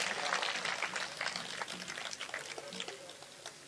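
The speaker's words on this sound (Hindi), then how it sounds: "लिए जोरदार तालियां हो जाएगी।" Audience clapping at a Hindi kavi sammelan poetry recital in Bajpur, a dense crackle of many hands that starts strong and tapers slightly over a few seconds, with no voices over it.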